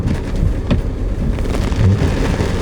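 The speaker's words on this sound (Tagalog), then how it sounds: "Lakas-lakas ng ulan guys." Heavy rain pours steadily and loudly, a dense continuous wash of drops close by with a few sharper splashes and a low rumble underneath.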